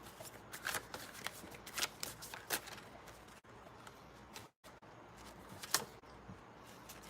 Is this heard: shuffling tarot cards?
yes